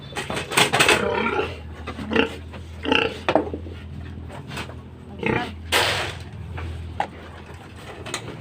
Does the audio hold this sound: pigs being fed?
yes